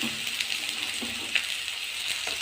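Pointed gourd, potato and ridge gourd fry in oil with a continuous soft hissing sizzle, moderately close, with faint stirring taps and no talk.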